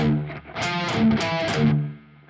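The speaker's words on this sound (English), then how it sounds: "Or you can palm mute them and it'll sound like this." Palm-muted electric guitar strums with distortion, several chugging chords in a row, close and fairly loud with no voices.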